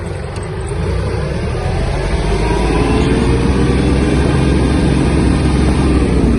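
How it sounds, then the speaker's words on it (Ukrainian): A Kubota T-240 Japanese mini tractor accelerates, its diesel engine a steady, loud low rumble that builds slightly and holds through the whole stretch, with no talk over it. "Трактор досить гарно набирає швидкість."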